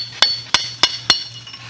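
A chisel whacks stuck mortar chunks loose while a catchment is cleaned out: four sharp, ringing metallic strikes, evenly spaced and close, over a low steady hum.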